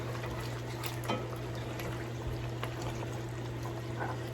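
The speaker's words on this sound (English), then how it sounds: "I'm gonna add some more warm water to that, just a little bit, about a half of a cup" About half a cup of warm water trickles into a pot of Jamaican-style stew pork; the quiet, steady pour is layered over a constant low kitchen hum.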